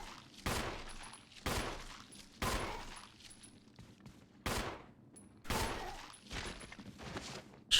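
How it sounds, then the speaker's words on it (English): A handgun fires in Resident Evil, about eight sharp, loud shots spaced roughly a second apart, each with a short decaying tail and no talk between them. "I'm gonna use my handgun here."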